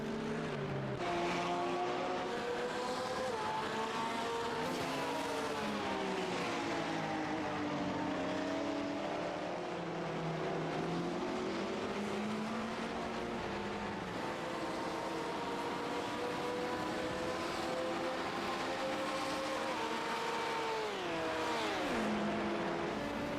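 Several G23 race cars battle for the lead in a six-hour sim racing event, their engines droning and rising and falling in pitch through gear changes and corners, continuous and loud with no talk.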